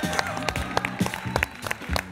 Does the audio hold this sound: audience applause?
yes